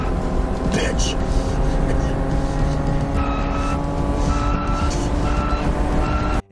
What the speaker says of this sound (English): he jumps in his car and drives 115 miles an hour down the highway